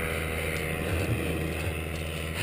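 A paramotor engine drones steadily at a flying school on an aerodrome, a continuous buzzing hum with slight swells in revs, heard close and alone.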